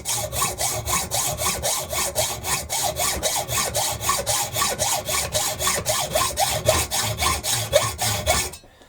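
Rhythmic back-and-forth hand sawing through metal stock, about two to three strokes per second, close and steady, ending with a brief pause.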